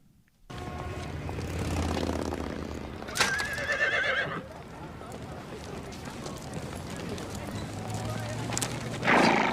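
A horse neighs in a long whinny, with hoof clip-clops and a low engine-like rumble around it, and people talk and laugh over the sounds.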